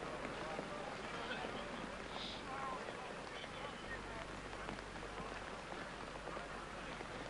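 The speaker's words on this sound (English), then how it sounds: "The rain is pouring down." Rain pours down steadily outdoors at a crown green bowls tournament, a dense, even hiss of drops on surfaces running throughout, with faint voices in the background.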